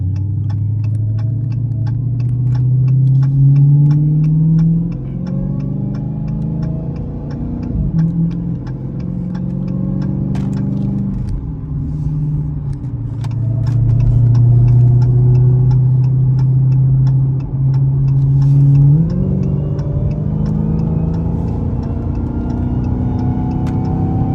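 A Dodge Challenger Hellcat engine revs hard accelerating onto a highway, climbing through several gear shifts, pitch rising and dropping with each change, loud and close with no talking.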